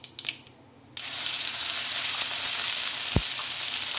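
Onion-tomato masala paste drops into hot oil tempered with mustard seeds, bursting into a loud, steady sizzle after a second of quieter crackling, with one brief spoon clink partway through.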